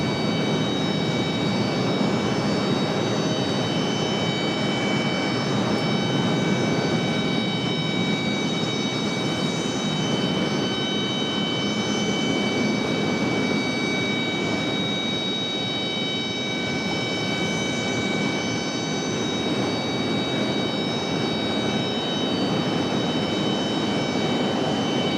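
An American Eagle Embraer E175 jet airliner at Raleigh-Durham International Airport near Terminal 2, giving a steady, loud, broadband jet engine roar with a constant high whine running unbroken throughout, no voices.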